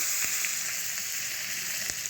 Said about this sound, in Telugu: ఆవాలు, జీలకర్ర, ఎండుమిరపకాయలు వేసేసాను. అలాగే ఇంగువ పోపు మస్ట్ అండి